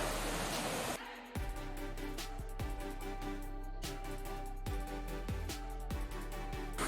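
A beautiful waterfall near a cave entrance pours with steady, broad rushing water that fills the whole clip without break, joined by a few sharp thuds or clicks close by.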